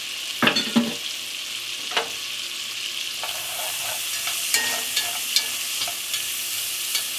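Chopped onion and celery sizzle in a pot for New England clam chowder, a steady close frying hiss broken by a few scraping strokes and clacks of a spoon stirring, with no talk.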